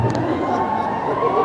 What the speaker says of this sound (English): The fact that they're cheering means it'll happen.